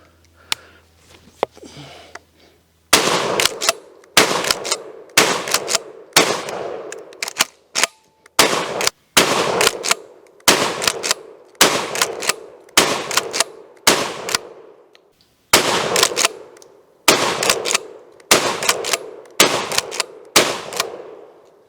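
A Real McCoy PAS 12 pump shotgun, a budget gun being run through a 400-round test, fires about a dozen loud, sharp blasts in a steady rhythm, each ringing out with a short decay before the next.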